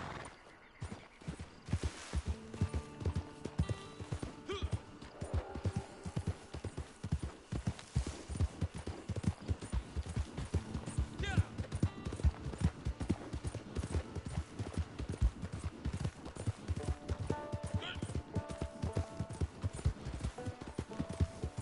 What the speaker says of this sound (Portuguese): Um cavalo inicial meio bem fraquinho de início.